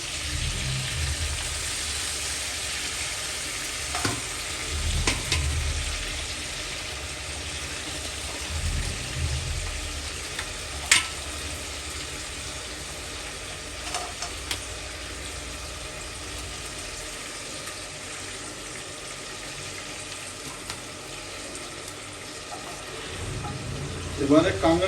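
Crab fries in oil in a pan, a steady close sizzle with occasional clinks and low rumbling bursts, and a faint voice in the background.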